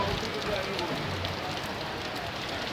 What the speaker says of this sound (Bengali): বৃষ্টিটা একেবারে সমানভাবে ঝরছে।